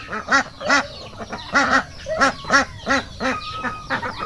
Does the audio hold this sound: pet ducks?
yes